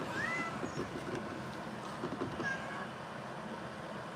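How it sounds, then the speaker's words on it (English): A domestic cat gives two faint, short meows, one early and one later, against steady background noise. "It's the most meowingest cat."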